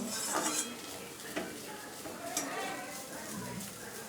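Metal utensils clink and scrape against a pan while fried banana stem is lifted out, a few sharp clatters over a low background sizzle.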